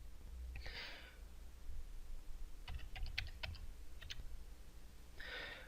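Keys on a computer keyboard are tapped in a quick irregular cluster as a password is entered, close and quiet, framed by soft breaths before and after.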